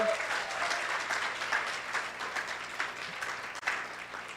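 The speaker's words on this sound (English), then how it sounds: "Please give them another round of applause." A crowd at a youth speaking competition final claps steadily, a dense wash of applause holding at an even level for several seconds.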